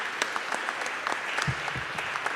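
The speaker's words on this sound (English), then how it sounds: "let's give a big hand to our panelists to thank them for their participation." An audience at a conference session on internationalization strategy claps for the panelists, a lively round of scattered, overlapping hand claps at moderate volume, with a few sharper claps standing out near the end.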